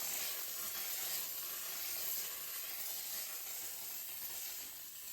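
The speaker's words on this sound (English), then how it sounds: "Now for steam cleaning the outside of the toilet bowl." A steam cleaner blasts a continuous loud hiss as it steams the outside of a toilet bowl, the jet held steady at close range and fading slightly at the end.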